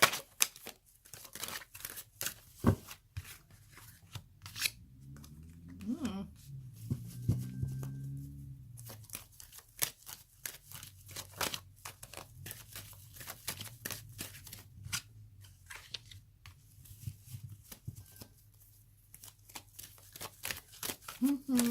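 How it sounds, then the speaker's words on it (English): Tarot cards are shuffled over and over in quick riffling bursts, close up, with a voice speaking softly in between. "Bear with me with the shuffling process."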